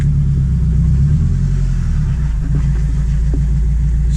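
A boosted Acura TSX runs on a test drive with a stage 4 clutch, its engine giving a loud, steady low rumble heard from inside the car, with no talking.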